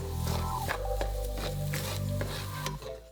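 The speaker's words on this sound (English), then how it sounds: "I peeled and minced 2 cloves of garlic, and I added that into the pan and just turned everything through" Minced garlic and vegetables sautéing in a pan while being turned, a steady close sizzle broken by repeated scraping strokes of the spoon across the pan.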